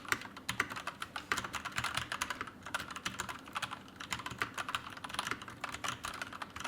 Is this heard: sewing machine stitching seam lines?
no